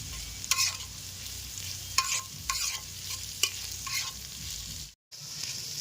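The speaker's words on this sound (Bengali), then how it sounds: "আমাদের আলু পেঁয়াজটা রসুনটা মোটামুটি ভাজা হয়ে গেছে" Potatoes, onions and garlic sizzle steadily in a pan while a utensil scrapes and stirs in several distinct strokes, with a brief silent gap near the end.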